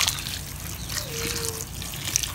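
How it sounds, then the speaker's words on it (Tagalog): Hot water is poured over gulaman seaweed, giving a brief trickling pour over noisy surroundings. "Bukasan natin ng tubig na mainit."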